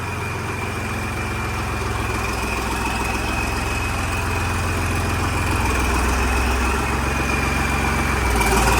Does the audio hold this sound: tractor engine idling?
yes